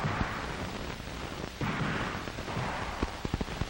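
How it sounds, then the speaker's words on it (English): Gunshots on a defensive firearms training course, a shooter firing from behind cover: several sharp reports over steady noise, with a quick cluster of shots toward the end. "He fires a good pattern with a minimum of bodily exposure"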